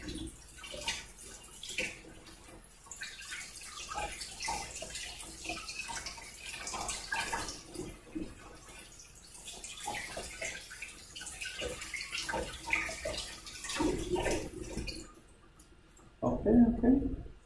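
Russet potatoes rinsed under running tap water in a kitchen, a steady splashing stream beneath a person talking throughout, ending in a louder burst of splashing.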